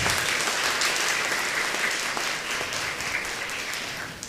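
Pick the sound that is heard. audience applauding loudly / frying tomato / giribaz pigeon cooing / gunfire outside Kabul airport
audience applauding loudly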